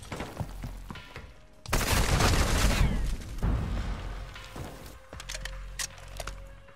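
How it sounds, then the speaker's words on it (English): A stun grenade in Modern Warfare 2 multiplayer goes off with a sharp, heavy burst amid ongoing gunfire, followed by a ringing tail and scattered shots and impacts. "Throwing stun grenade!"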